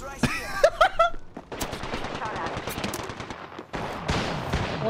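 Rapid automatic gunfire from the Apex Legends arenas mode, dense bursts of shots running nearly the whole time at close range, with a brief lull before another burst, while a player's voice cuts in at the start.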